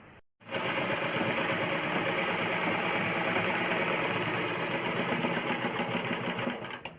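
After a brief quiet start, a sewing machine runs in one long, steady burst of fast needle clatter, close and loud, stitching a folded hem on a child's umbrella frock.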